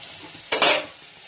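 Boiled potatoes tumble into a pan and are stirred with a utensil while an egg curry cooks, a brief clattering scrape with a soft sizzle underneath, close and moderately loud, with no talking.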